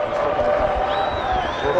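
A crowd roars and cheers in the stands at Queens Sports Club during a cricket match, a dense, steady wash of noise with a high whistle sliding through the second half.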